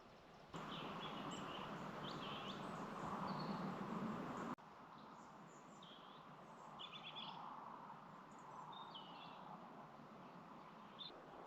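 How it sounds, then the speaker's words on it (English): Birds sing in woods at dusk on a still, mild evening, with faint, scattered chirps and short warbles over a soft, steady hiss, with no voices. "I can hear all the birds singing in those woods."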